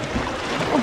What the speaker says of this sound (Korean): 오, 물소리 무섭노.